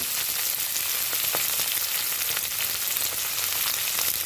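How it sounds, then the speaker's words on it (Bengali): Chopped onions fry with green chillies in hot oil, producing a dense, continuous close-up sizzle that stays loud and even throughout with faint crackles. No speech. "আর পেঁয়াজ কুচিগুলো আমি দিয়ে দেবো এই তেলের মধ্যে"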